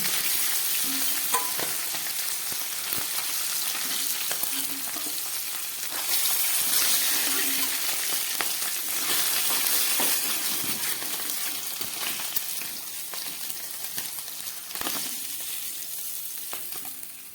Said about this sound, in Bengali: এই যে মাছের মাথা ভাজা হয়ে গেল।